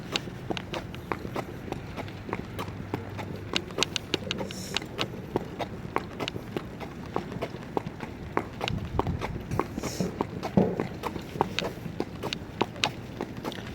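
A harness racing horse walks past the paddock, its hooves making a steady, even clip-clop on hard ground, close and moderately loud over a constant background hum.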